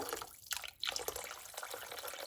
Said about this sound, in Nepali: अब म यसमा राख्दैछु उमालेको पानी।